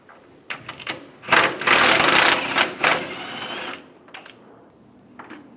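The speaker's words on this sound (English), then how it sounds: "Using a 15mm socket, take this bolt out." A 15mm socket backs a bolt out of the outer bumper of a 2007-2013 Chevy Silverado 1500, a close, sharp burst of rapid ratcheting clicks with a few isolated knocks before and after.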